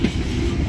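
A CSX Dash 8 or Dash 9 diesel freight train rumbles past close by, a steady loud roar of engine and rolling wagons with a faint clickety-clack of wheels on rail.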